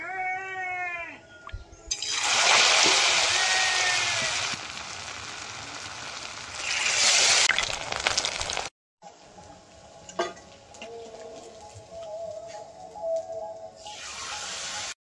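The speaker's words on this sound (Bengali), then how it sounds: "এবার এই ব্যাটারে ডুবিয়ে কচুগুলো ভেজে নেব।" Batter-dipped taro pieces fry in hot oil with a loud, steady hiss and sizzle lasting several seconds, followed by quieter bubbling with scattered pops and light clinks.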